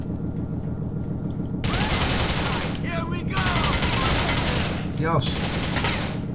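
Rapid gunfire in the video game Grand Theft Auto IV, dense continuous bursts of shots layered with game effects, loud and sustained, with a voice speaking briefly.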